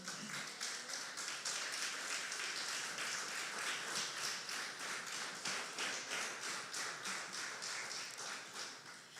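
Church congregation applauding together, a fairly faint, continuous patter of many hands clapping in a steady rhythm through the whole stretch, with no speech over it.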